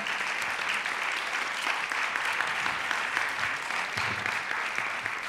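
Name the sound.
audience applauding round table speakers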